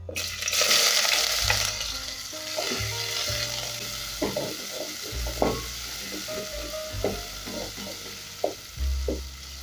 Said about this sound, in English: once this is also hot, I'll go in with my onions.